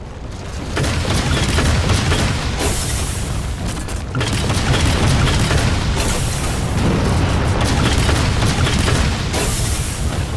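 Railgun blasts and heavy explosions from the Halo 4 video game boom in a dense, loud, continuous barrage, with deep rumbling impacts pulsing every few seconds.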